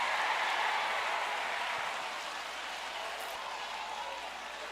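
A church congregation claps and cheers, a broad wash of applause that fades slightly and then holds steady, heard from within the crowd.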